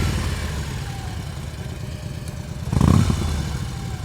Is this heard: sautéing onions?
no